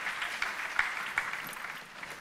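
A live comedy audience applauds for a stand-up performer, a steady wash of clapping with scattered louder hand claps, fairly close and continuous throughout.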